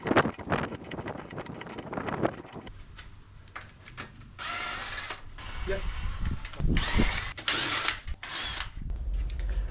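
A power tool works the wheel nuts, including a security nut, on the front wheel of a raised BMW E93 335i, firing in several loud, grinding bursts separated by short pauses, with wind-like noise.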